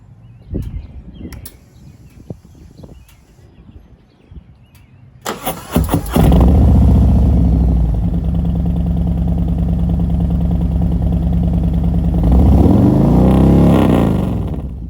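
A motorcycle engine cranks and fires up, then revs loudly and holds a steady, close idle-to-rev roar with a second swell near the end, after quieter shuffling and handling sounds at the start.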